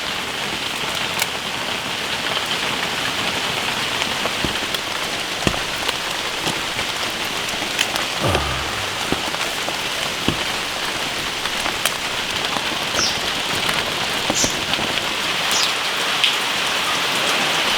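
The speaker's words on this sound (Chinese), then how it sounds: "我们这儿又在下大雨了，" Heavy rain pours steadily and densely onto surfaces outdoors, making a constant loud hiss with scattered nearby drips and taps and no voices.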